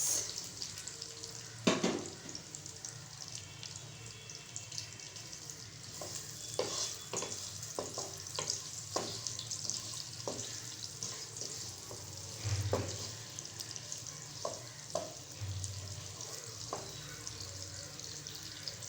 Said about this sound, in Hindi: इसको हम लाइट ब्राउन करेंगे। जैसा कि प्याज ब्राउन होना शुरू हो गया है